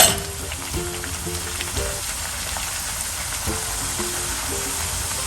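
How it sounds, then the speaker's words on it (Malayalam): Steady crackling sizzle of bhatura dough frying in hot oil, continuous and close, with faint clinks of utensils in the background. "എണ്ണയ്ക്കകത്തോട്ട് ഈ ഭട്ടൂര ഇടുമ്പോൾ നന്നായിട്ട് ചൂട് വേണം എണ്ണയ്ക്ക്"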